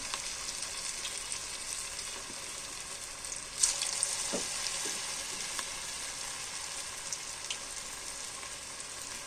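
Small balls of cabbage vada batter fry in hot oil, giving a soft, continuous sizzle with occasional pops and light stirring clinks, fairly quiet and close.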